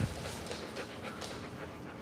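Dogs pant in quick, rhythmic breaths indoors, faint and close, with soft breathy puffs repeating steadily and no talking.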